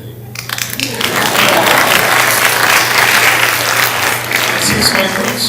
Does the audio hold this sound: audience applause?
yes